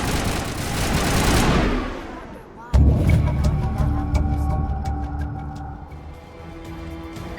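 Gunfire from a crossfire in the video game Mass Effect Legendary Edition: a dense roaring burst of fire that fades, then a sudden heavy boom followed by sustained rumbling battle noise and scattered shots.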